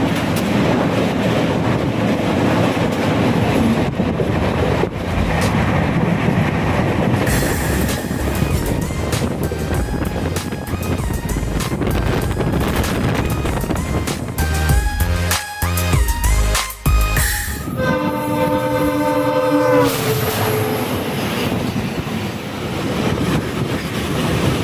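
An Indian passenger train, the Ajmer special from Agra Fort to Jaipur, rumbles along steadily from on board, then slows with squealing brakes and screeching metal, ending in a rhythmic clatter.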